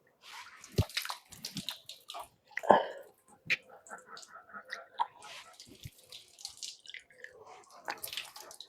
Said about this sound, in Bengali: তো মুখ ধোয়ার পরে এখন আমরা তিনবার করে হাত ধোবো।